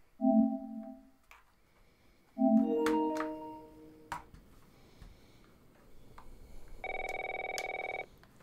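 A telephone rings in The Last of Us video game, giving two sharp bell-like rings followed by scattered clicks and knocks, and then a longer, brighter electronic tone near the end, with no one speaking.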